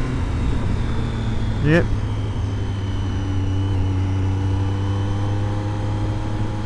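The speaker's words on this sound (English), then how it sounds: "let's go for a cheeky little overtake." A car engine drones steadily as the driver pulls out to overtake on a road, the low hum building slightly while someone speaks briefly over it.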